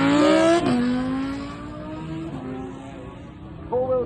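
An Audi R8 supercar leaving a car show accelerates hard in launch mode, its engine note climbing through gears with a shift around half a second in, loud and close, then a fresh rev surge near the end.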